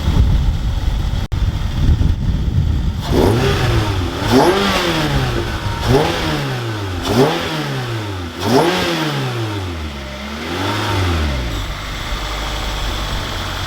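A Toyota MR2 Spyder with a swapped 2ZZ engine revs up and falls back repeatedly in a rhythmic series of rising and falling blips before settling into a steady idle, close and loud.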